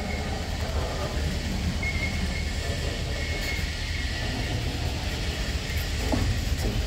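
Norfolk Southern freight train passing at Morgan Grove, West Virginia, a steady low rumble of rolling railcars heard from nearby, continuous and even with no voices.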